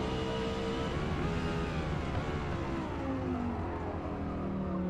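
A 2018 Audi R8 LMS GT3 race car in the Forza Motorsport racing game accelerates with a steady, loud engine drone whose pitch climbs and shifts through the revs, with no talking.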